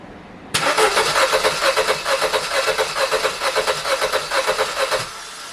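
A car engine with one spark plug removed cranks steadily with a rhythmic, slightly uneven chug for about five seconds, then stops; loud and close, no voices.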